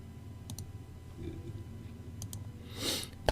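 Mouse clicks while saving a file in Adobe Photoshop 2020, a few faint separate clicks near the mic over a low room hum, with a sharper single click at the end.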